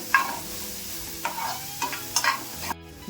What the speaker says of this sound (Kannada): 2 ನಿಮಿಷ ಇದ್ರ ಜೊತೆ ಫ್ರೈ ಮಾಡ್ಕೊಬೇಕು